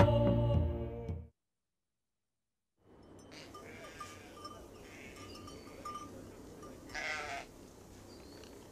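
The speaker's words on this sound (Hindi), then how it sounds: "बकरियों को इकट्ठा करो, हम घर वापस जाएंगे।" Goats bleating in an open outdoor setting, several calls rising over a steady low rumble after a brief silence, with one louder cry near the end; a low musical tone opens the scene.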